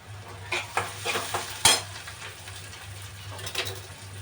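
Chopped onion frying in a pan in a home kitchen, a steady low sizzle under scattered stirring scrapes and clinks, with one sharp louder clatter midway; no speech.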